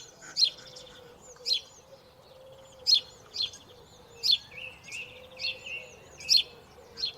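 A sparrow gives short, sharp chirps in repeated bursts roughly every second, close and clear over a quiet outdoor background with faint low hum.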